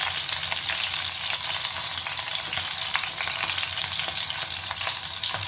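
Leg of lamb frying in a modest amount of oil in a pan over medium heat, a steady, even sizzle and crackle that holds at constant loudness throughout.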